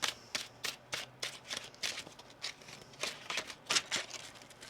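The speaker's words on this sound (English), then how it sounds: "One more shuffle." Tarot cards being shuffled in a steady run of crisp riffling bursts, about a dozen quick flutters close to the microphone with no talking.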